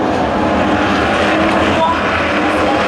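Race cars at Tours Speedway drone in a continuous, loud engine roar from the oval, a steady blur of motors with no clear pass-bys standing out.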